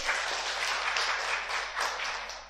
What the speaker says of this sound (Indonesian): Beri tepuk tangan coba